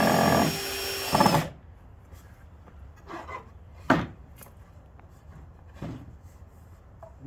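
A power drill drives screws into the side of a wooden birdhouse. One loud, close whir of the drill is followed by quiet knocks and handling sounds.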